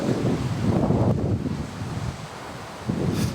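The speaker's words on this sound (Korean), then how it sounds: "바람이 멈추질 않네" Strong wind buffets the microphone at sea on a fishing trip, roaring in gusts over the wash of waves, loud and close, easing briefly before surging again.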